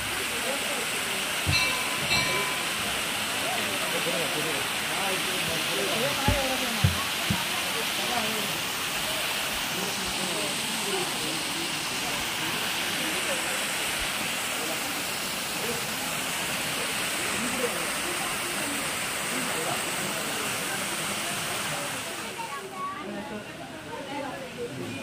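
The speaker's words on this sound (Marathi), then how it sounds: "इथे लगेच धबधबा आहे" The Dhoot Papeshwar waterfall, near a temple, gives a steady broadband rush of falling water throughout, moderately loud and continuous, with a few faint knocks and handling noises.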